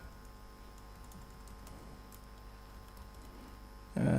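Soft, quick computer keyboard clicks patter under a steady background hum, ending with a sudden louder burst.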